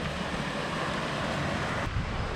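Waves on Hua Hin beach in Thailand, a steady broadband wash of surf mixed with wind buffeting the microphone, continuous and fairly loud.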